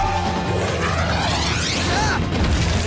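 A cartoon cannon barrage fires in a rapid stream of booms and crashing blasts, a dense, loud, continuous clatter of explosions and sweeping whooshes lasting under three seconds.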